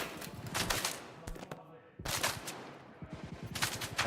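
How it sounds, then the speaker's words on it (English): Rapid gunfire bursts from the video game STALKER GAMMA crackle in several quick volleys, loud and close with short gaps between them. "Who's shooting?"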